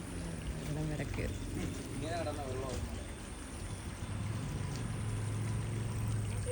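Floodwater rushing under a bridge after heavy rain, a steady loud roar of flowing water throughout, with a person talking over it.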